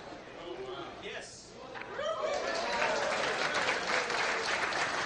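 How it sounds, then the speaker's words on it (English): Audience applause at a three-cushion billiards show, starting fairly faint and swelling into steady, dense clapping with some crowd murmur and laughter mixed in. "Big applause for her."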